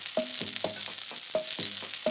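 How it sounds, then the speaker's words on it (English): Onions sizzling on a plancha over a MiniMax grill, a steady close hiss of frying with repeated short tonal scrapes or squeaks at a regular rhythm, with no voices. "Ooh, sizzle, sizzle, sizzle. Let these onions get nice and grilled."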